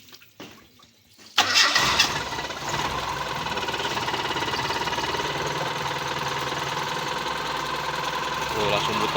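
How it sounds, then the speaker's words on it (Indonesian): A Mitsubishi Lancer car engine cranks briefly after a quiet moment, catches, then settles into a steady, fairly loud idle that runs close by to the end. "sambil kita nyalain mesin lagi ya"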